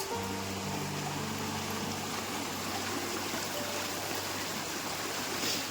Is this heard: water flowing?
yes